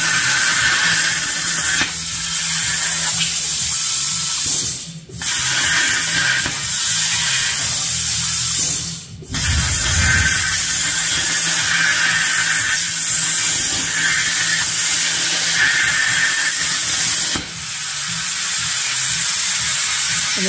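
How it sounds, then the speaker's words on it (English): A DIY rotary plasma cutter works with an air compressor running, a steady loud hiss and hum broken by a few abrupt stops and a brief low thump. "That's the just as the compressor comes on."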